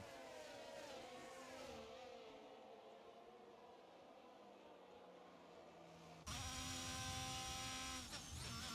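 Formula 1 race cars in an F1 video game race at the British round, engines droning steadily at a distance before a louder, higher-pitched engine note cuts in sharply near the end as a car closes in.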